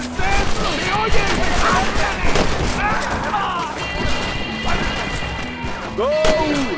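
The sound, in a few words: gunfire in the video game Red Dead Redemption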